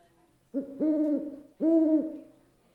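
An owl gives two hoots in a row, each a clear, sustained tonal call about a second long, close and alone against near silence.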